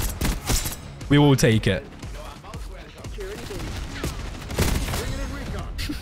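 Bursts of gunfire from the video game Black Ops 6 crackle in quick volleys, mixed in with someone talking.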